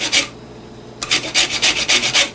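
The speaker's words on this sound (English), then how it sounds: "once your lemon is washed, you're just gonna just rub it on the grater like this" A washed lemon scraped across a metal grater to take off its yellow zest: one short rasping stroke, a pause, then a quick run of about six rhythmic grating strokes, close and clear with no talking.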